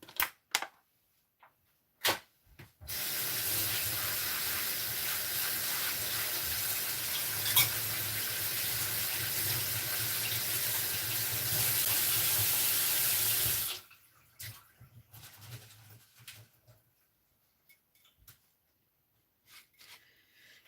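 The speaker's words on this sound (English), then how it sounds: "I'm going to be taking about a handful of spinach, and I'm going to wash," A handful of spinach is rinsed under a running kitchen tap, a steady loud rush of water lasting about eleven seconds, bracketed by quieter knocks and handling sounds.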